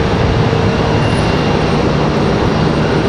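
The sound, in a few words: Air France Boeing 777-200ER on final approach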